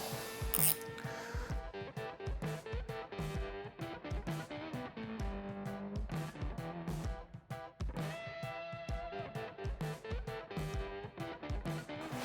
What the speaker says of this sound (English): And then we just put those little screws back in here.